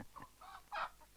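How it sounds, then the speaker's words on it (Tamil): Chickens clucking, a few short, near, moderately loud clucks in quick succession with no talk over them. "என்ன கோழியெல்லாம் வாங்கிட்டு வந்திருக்காரு?"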